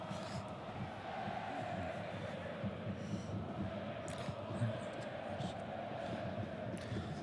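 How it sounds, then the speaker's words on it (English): A football stadium crowd at Ross County versus Rangers in Dingwall makes a continuous distant roar and murmur of chanting, a dense steady wash of voices with no single standout moment, heard through a broadcast with someone talking over it. "Oh, mate, I love hearing the crowds back in."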